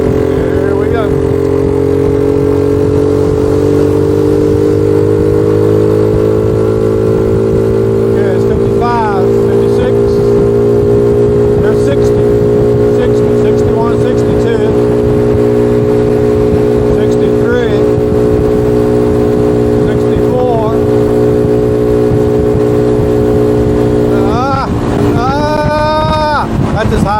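Honda Helix scooter engine droning steadily while riding, a close continuous hum with wind noise, someone speaking over it throughout.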